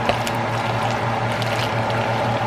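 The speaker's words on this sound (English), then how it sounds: "If your mac and cheese don't sound like this," Thick, cheesy baked macaroni and cheese being stirred in a pot, giving a continuous wet, squelching, sticky churn that stays steady and close throughout, with no talking.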